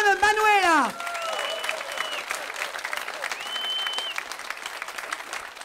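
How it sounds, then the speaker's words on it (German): A television studio audience at a music show breaks into sustained applause while a voice speaks over the opening second, and a faint tone lingers behind the steady clapping. "Das ist euer Applaus,"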